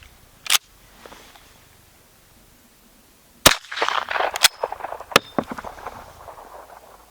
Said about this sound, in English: we'll see if we can't get it to fire and get good primer strikes